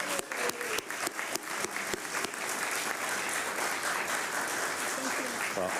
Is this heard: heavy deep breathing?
no